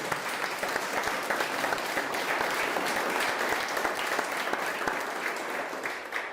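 A church congregation at a live Sunday worship service claps loudly and steadily, a dense wash of many hands sustained throughout with no gaps.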